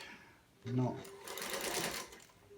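A 1955 Singer Featherweight sewing machine runs in a short burst of whirring stitching, close and moderately loud, with a voice briefly heard alongside it.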